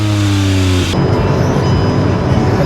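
A Hyundai i20 N-Line engine gives a buzzy, motorcycle-like tone with stepped harmonics for under a second, then gives way to a broad, steady roar of road and engine noise that fills the rest.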